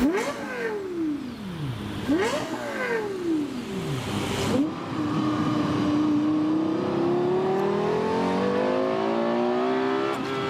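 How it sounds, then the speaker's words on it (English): A Lexus LFA in Seoul fires up and is blipped three times, each rev soaring and dropping sharply, then settles into a loud sustained engine note that climbs slowly as it accelerates. "Me drive his Lexus LFA. That startup, bro."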